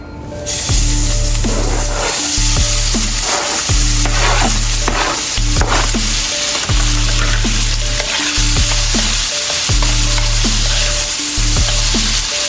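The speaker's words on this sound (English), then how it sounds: "let's go ahead and add in the sausage and the spam" Sausage and spam sizzle and crackle steadily in a frying pan for Jamaican curry corned beef, a loud continuous hiss with repeated stirring scrapes and clinks, and no talking.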